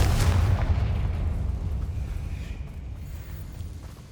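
A Confringo blasting spell from Hogwarts Legacy detonates as a loud, close boom that trails off into a rumbling decay lasting several seconds, with no voices over it.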